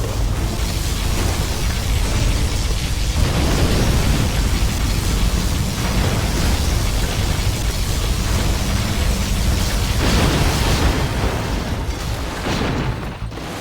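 Particle cannon blasting in Command & Conquer Generals Zero Hour, a continuous roaring wall of explosive rumble and noise, loud and sustained for many seconds before easing off at the end.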